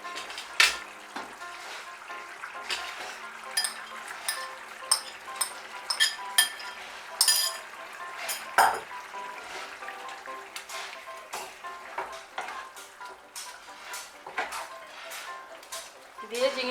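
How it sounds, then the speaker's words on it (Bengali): Fried prawns go into a pan of potol curry and are mixed in, with irregular clinks and scrapes of a spoon against the pan and a faint sizzle, while someone talks throughout. "এখন এর মধ্যে আমি ভেজে রাখা চিংড়ি মাছগুলো দিয়ে দেব।"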